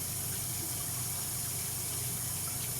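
Running water rinsing out a raw chicken carcass: a steady, even broadband wash that holds without pause, fairly quiet, with no voices.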